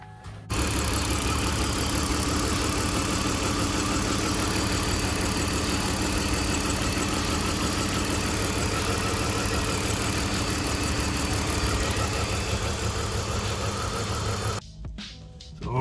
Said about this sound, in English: Then we go ahead and start up the car.